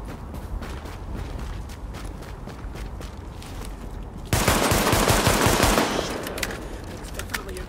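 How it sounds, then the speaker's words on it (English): Rapid automatic gunfire erupts in Tom Clancy's The Division while taking over a stronghold, a loud sustained burst following a stretch of footsteps and quieter clicks, then tapering into scattered shots. "It's definitely a gun."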